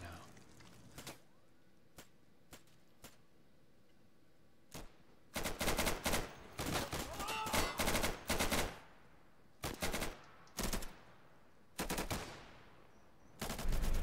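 Gunfire in the Insurgency shooter game: scattered single shots at first, then loud bursts of automatic fire in rapid strings with short pauses, close and sharp, under faint voices.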